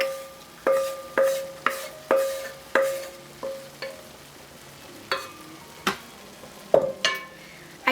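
Radish cake mixture cooking in a pan on low heat, a soft background sizzle broken by a series of sharp utensil clinks and scrapes against the pan, about a dozen, loud and close with no talking.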